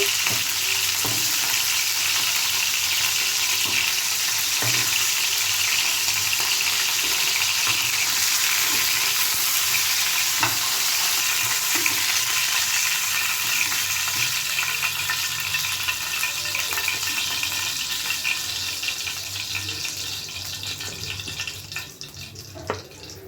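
Pieces for a peas chicken curry fry in a pan, giving a dense, continuous loud sizzle that holds steady throughout and eases slightly toward the end, with faint utensil touches and no talk.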